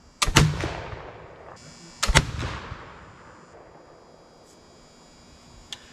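A black powder gun fires twice outdoors, each a loud, sharp boom with a long echoing decay, about two seconds apart, followed by fading rumble and quiet wind.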